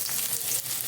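Onion sizzles in a hot pan with a steady crackling hiss that stays even throughout, close and alone.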